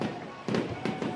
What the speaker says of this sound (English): Those are fireworks as the fireworks extravaganza at the ballpark continues.